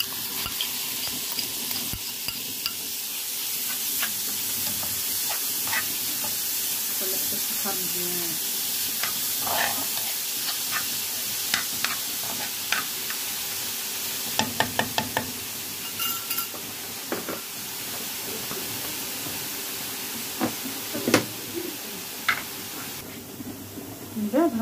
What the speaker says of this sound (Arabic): بعد ما سخن الزيت غنديرو البصله